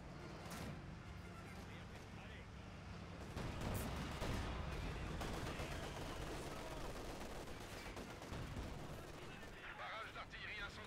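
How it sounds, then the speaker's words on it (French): Incendiary artillery barrage in Company of Heroes 2, a dense spread of booming blasts and crackling fire rolling on for several seconds under constant battlefield noise and game music. "Barrage d'artillerie incendiaire lancé."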